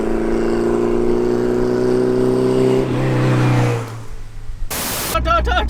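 A 500 bhp B16 turbo Honda Civic EF hatch pulls hard with a rising, droning engine note, then lifts off and the turbo flutters in a brief chattering burst before the sound breaks up into wind and rustle.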